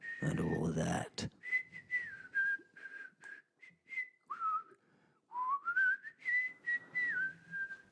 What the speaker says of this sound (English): whistling my jolly tune